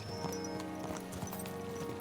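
Horses galloping in Kingdom Come: Deliverance II, a steady rapid thudding of hooves at close range with faint creaking tack, repeating evenly for about two seconds with no voices.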